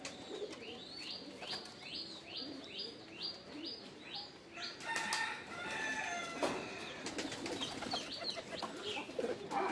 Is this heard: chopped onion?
no